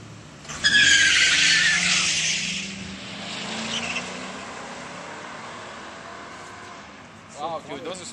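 At a drag race meet in Erie, Pennsylvania, car tires squeal and skid loudly for a couple of seconds, then an engine roar fades into distant track noise.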